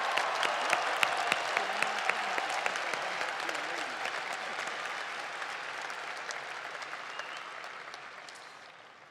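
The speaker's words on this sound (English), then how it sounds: "How about another round of applause for all of our graduates today?" Commencement audience at Grand Valley State University applauding graduates, a dense, sustained wash of clapping from a large crowd that gradually tapers off.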